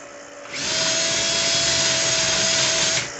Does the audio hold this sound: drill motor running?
yes